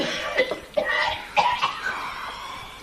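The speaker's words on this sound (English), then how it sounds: "Me cough's bad this morning." A string of rough, hoarse coughs in quick bursts, close and fairly loud, with a wheezy catch between them.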